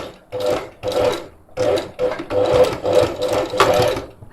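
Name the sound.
sewing machine stitching fabric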